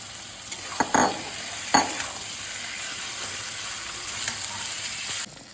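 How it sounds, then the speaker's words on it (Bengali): Fried taro and prawns being stir-fried in spices in a pan, with a couple of scraping stirs over a steady low sizzle, no talking. "ভাজা কচুটা দিয়ে একটু কষিয়ে আমি ঢাকা দিয়ে দেবো"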